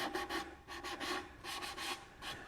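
A 3M Scotch-Brite pad scuffs a brushed-on Deft lacquer finish in short, quiet rubbing strokes. About six soft, close passes come in an even rhythm, with no talking.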